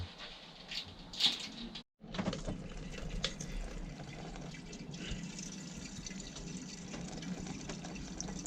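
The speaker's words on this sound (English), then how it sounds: "Next, the antifreeze and water is added." Antifreeze and water being poured into a narrowboat engine, a faint, steady trickle of liquid with a short knock and a brief silent gap near the start.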